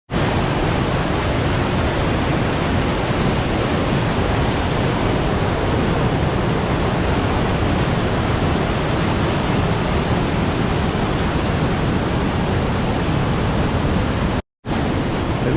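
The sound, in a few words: double waterfall on a Washington trail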